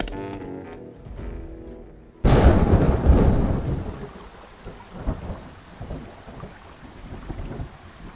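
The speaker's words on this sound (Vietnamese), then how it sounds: "Mưa to quá, nhà tôi bị ngập hết cả rồi." Heavy rain and a thunderstorm in an animated folk-tale cartoon: a quiet moment gives way to a sudden loud crash of thunder, followed by a dense, steady downpour that rumbles on. No voices are heard.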